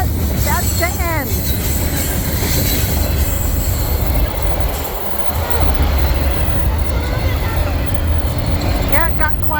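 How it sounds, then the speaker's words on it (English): A long train with several locomotives, including engines in the middle of the consist, rumbles past loudly with clattering wheels and repeated high metallic squeals, while voices are heard nearby. "Oh, there's some more engines. Woo, more engines. That means that's the middle of the train. This is a long train."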